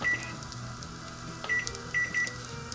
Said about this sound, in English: Now what I've done is I've set a timer